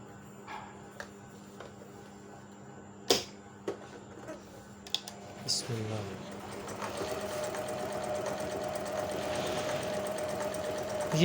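A Juki HZL-E60 sewing machine starts up after a few clicks and knocks, then stitches a design in a steady, fast mechanical whir that continues to the end.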